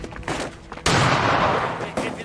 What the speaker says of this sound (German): hör auf zu schießen!